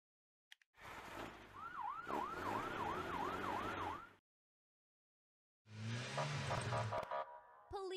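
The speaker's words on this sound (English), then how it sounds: "Fire engine." A fire engine siren wails in a rapid, repeated up-and-down yelp, loud and near, then stops and returns after a short silent gap.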